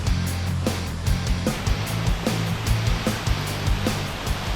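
Waterfall close to Segara Anak crater lake on a mountain, a steady loud broadband rush of falling water with low rumble, continuous throughout with no voices.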